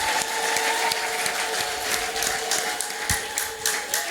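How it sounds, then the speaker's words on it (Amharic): An audience at a church gathering applauding, a dense continuous patter of many hands clapping, fairly close and steady throughout with a faint tonal hum underneath. "አጨብጭቡ እስቲ ለራሳችሁ ባካችሁ።"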